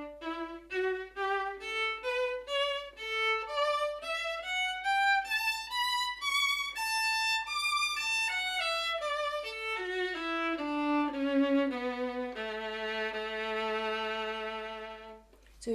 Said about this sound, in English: And articulated strokes sound like this.